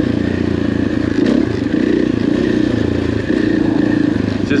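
A dirt bike ridden solo along a dusty OHV trail from Mace Mill toward Rock Creek, its engine droning loud and close with steady throttle and a constant rattle of rough ground.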